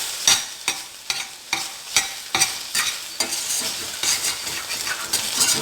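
Spoon stirring egg fry in a pan over a low flame, with steady sizzling under rhythmic scraping strokes about twice a second, close and fairly loud, with no talking.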